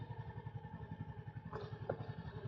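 Motorcycle riding slowly along a gravel dirt road through an RV campground in Jefferson, Ohio, a low, steady pulsing engine putter close to the microphone with faint crunches and clatter, with no talk.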